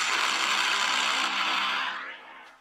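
A generic cinematic movie horn played from a phone sound-effects app: a dense, brassy, sustained blare that holds steady for about two seconds and then fades away, with no voices.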